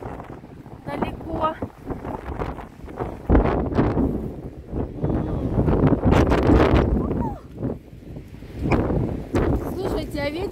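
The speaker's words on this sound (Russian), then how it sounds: "Слушайте, а ветер прям так подбивает." Strong gusty wind buffets the microphone outdoors in a storm, roaring and surging in waves while a person talks over it and loose objects rattle nearby.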